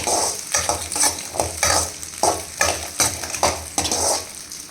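Chopped onion and dried red chillies sizzle steadily in a pan, with a utensil stirring them in repeated scraping strokes roughly twice a second, close and loud, no voices.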